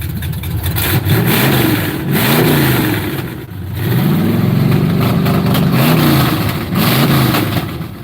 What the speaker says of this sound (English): It does sound real good when it revs it